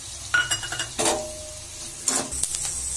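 Onions fry in ghee while a spoon scrapes and clinks against the pan in short bursts, the gentle sizzle underneath rising between the stirring strokes.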